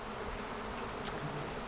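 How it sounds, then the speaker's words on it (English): A swarm of honey bees buzzing in the open air, a dense, steady hum with no voices. "the whole entire cloud of bees now has moved away from the hive"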